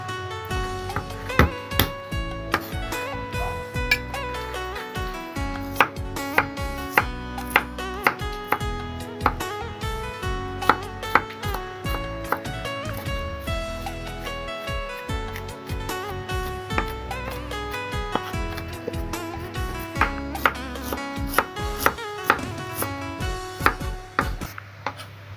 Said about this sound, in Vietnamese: Thì ở đây bây giờ mình cũng băm hành tỏi luôn nha cả nhà.